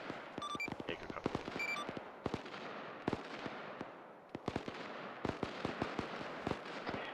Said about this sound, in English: I hear gunfire to our west as well, directly behind the extract point